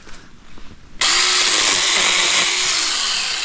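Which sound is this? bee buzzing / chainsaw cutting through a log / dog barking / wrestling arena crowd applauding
chainsaw cutting through a log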